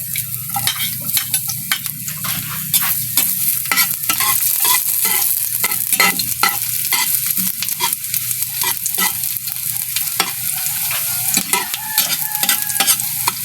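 Garlic sizzling in a hot clay pot, a loud steady crackle close by with frequent stirring scrapes and taps throughout, no voices.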